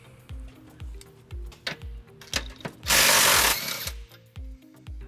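An impact tool with an 18mm socket working a bolt on the underside of the frame rail of a 2007 Dodge Nitro, firing in rapid repeated bursts with clanks, then a loud sustained hiss of roughly a second.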